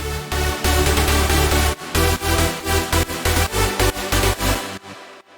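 Sidechained sub bass and saw bass synths in a big room style electronic track, pumping in a steady rhythmic duck-and-swell pattern, loud and full, with no voices.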